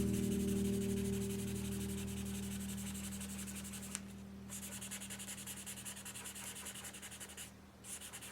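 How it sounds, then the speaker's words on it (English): Charcoal smoothed and blended on drawing paper to build a skin tone, a faint soft rubbing texture with steady low hum in the background, quiet and continuous with a couple of short pauses. "This is just smoothing out the charcoal, make it a little bit more like a skin tone."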